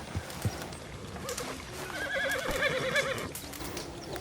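A horse in the game Red Dead Redemption 2 whinnies with a loud, wavering neigh lasting about a second and a half, set among hoof clatter and ambient game noise.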